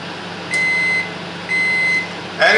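A Silvercrest SMW 800 F2 microwave runs in grill-and-microwave combination mode, cooking chickens on a grill stand. A steady hum carries on alone while two separate high electronic tones sound briefly, followed by a louder clatter at the end.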